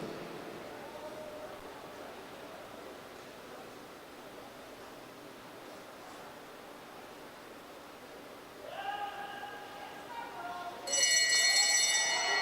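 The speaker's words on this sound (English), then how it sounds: "The bell rings" At a track cycling race, the final-lap bell rings near the end, bright and repeated. Before it comes a long stretch of diffuse crowd and arena noise, with a brief tonal sound partway through.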